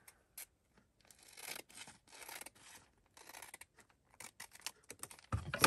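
Scissors cut across a sheet of junk mail or wallpaper paper while crafting an ephemera holder, giving quiet, close, choppy snips and rustles in irregular bursts.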